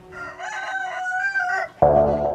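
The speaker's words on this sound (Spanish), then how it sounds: "Aquí estoy en una granja, rodeado de pollos" Farm chickens cluck and a rooster crows, one long rising crow followed by a loud burst of clucking close by, with no talk.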